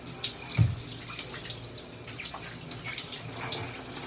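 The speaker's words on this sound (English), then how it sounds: "I set my shower head so that I can rinse the blade really easily" Shower water from an adjustable shower head runs steadily in a bathroom during a head shave, a close hissing spray with a few splashes and drips, no talking.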